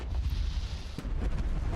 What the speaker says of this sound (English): There's fireworks in this game.